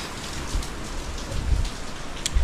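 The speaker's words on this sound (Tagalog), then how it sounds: "Pangalawang araw na ngayon na malakas ang ulan." Steady heavy rain pouring down, a dense continuous hiss with occasional louder drops and low rumbles, no voices.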